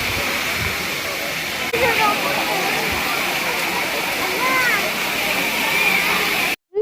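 The Courtallam waterfall pours with a loud, steady, close roar that holds without pause, with faint voices mixed into the rush before it cuts off abruptly near the end.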